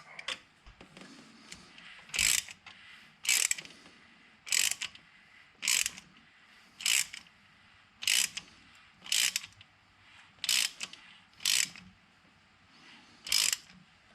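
A tool twists a rear brake caliper piston back into a 2007-2015 Chevrolet Impala caliper. Sharp ratcheting clicks come in about a dozen evenly spaced bursts, roughly one per second, close and distinct against quiet gaps.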